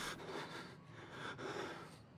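Heavy, ragged breathing from a character in the horror game Outlast, close and continuous with sharp intakes and snorting exhales, no talk over it.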